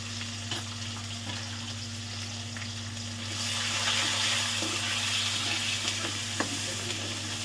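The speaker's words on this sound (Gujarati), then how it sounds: "ડુંગળીને એકદમ સરસ ફ્રાય કરી દેવાની છે।" Onions fry in a pan with a steady sizzle and soft stirring scrapes. The sound grows louder about halfway through, and a constant low hum sits underneath.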